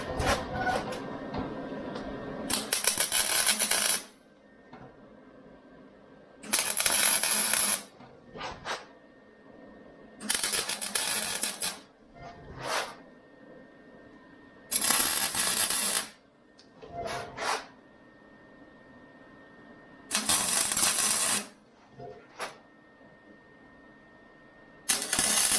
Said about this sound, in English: let's put some welds in